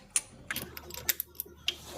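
A ratchet turns a 9/16 socket on an extension to loosen a spark plug on a Subaru 2.5L engine, giving a string of faint, close, irregular clicks and ticks.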